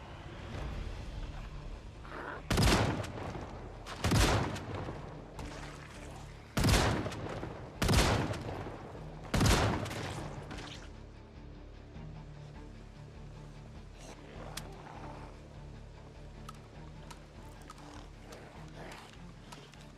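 Gunfire at zombies in Project Zomboid: five loud, sharp shots spaced a second or two apart, each with a short decaying tail, followed by quieter ambient rustling and faint distant noises, no talking.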